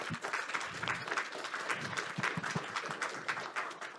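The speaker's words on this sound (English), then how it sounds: "Another round of applause." A conference audience gives the panelists another round of applause at the close of an AWE 2023 session, a busy, even wash of clapping from many people, sustained for the whole stretch.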